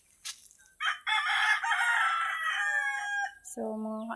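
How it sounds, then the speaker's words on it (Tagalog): Farm rooster crowing once, loud and close, a long bright cock-a-doodle-doo after a short squawk, followed by a brief clucking call at the end. "Dami ditong alagang manok"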